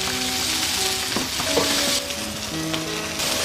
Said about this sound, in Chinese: 直接下入火锅里面炒。